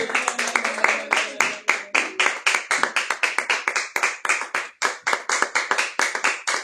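A church congregation at a worship service claps together in a steady, brisk rhythm, many hands striking in unison, loud and close, with a voice briefly heard underneath.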